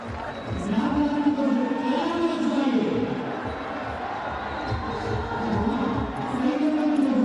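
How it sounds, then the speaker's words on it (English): A Test cricket crowd at Pakistan vs South Africa roars and chants in waves as Babar Azam bats, a sustained loud stadium din with a commentator talking over it. "A different feel with the crowd as Babar Azam batting"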